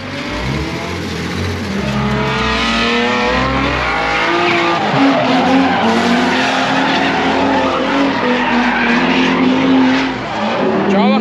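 BMW E46 drifting on a drift day, engine roaring and tires squealing loudly and continuously, close, with a voice speaking over it.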